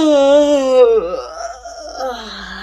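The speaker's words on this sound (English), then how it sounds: "have a big noisy yawn" A big, noisy human yawn during a relaxed voice warm-up exercise: a long, loud, voiced groan that slides downward and then wavers into a drawn-out breathy moan, heard close and alone.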